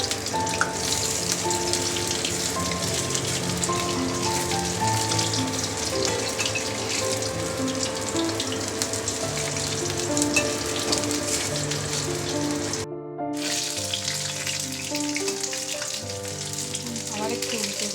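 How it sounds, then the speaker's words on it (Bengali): Ash gourd slices deep-frying in oil over a high flame give a steady, even sizzle that runs throughout, with soft background music and one brief dropout near the end. "ডুবো তেলে ভেজে নিতে হবে, আর গ্যাসটা একটু হাই ফ্লেমে থাকবে।"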